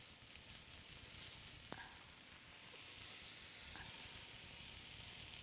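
Veggie burgers sizzle on a hot cooking surface at a farmer's market stall, a faint, steady hiss running throughout with a couple of brief sharp clicks.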